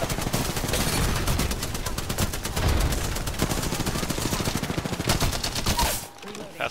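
Rapid automatic gunfire in the video game Apex Legends, a dense, continuous burst of shots in close succession, loud and near, with voices talking over it.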